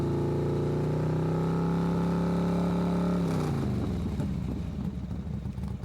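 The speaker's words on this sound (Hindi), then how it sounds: "अगले ही पल कुकबंद की मोटरसाइकिल लिंक रोड की ओर दौड़ी जा रही थी।" A motorcycle speeds along a link road, its engine a loud, steady drone that shifts pitch partway through and turns rougher and grittier toward the end, close and continuous with no talking.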